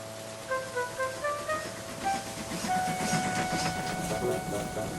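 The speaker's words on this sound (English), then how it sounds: "It was Duck, coming out of the tunnel with a ballast train." A train hauling ballast wagons rolls out of a tunnel with a steady rumble, rhythmic wheel thumps and clanks, and sustained tonal whistle or squeal lines overhead, moderately loud throughout.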